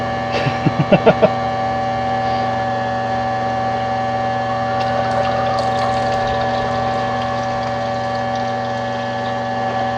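Duck pond water is pumped into a homemade 5-gallon bucket filter, a steady pump hum with continuous flowing and trickling water, close and constant, opening with a few quick knocks.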